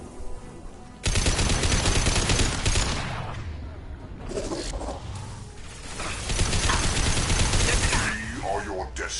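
Gunfire in the sci-fi shooter Mass Effect 2 erupting suddenly into loud sustained automatic bursts with mechanical clatter, easing briefly before swelling again, with a voice talking over it.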